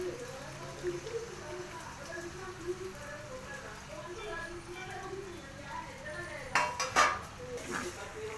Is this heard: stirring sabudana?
yes